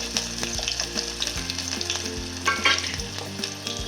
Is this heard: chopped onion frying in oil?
yes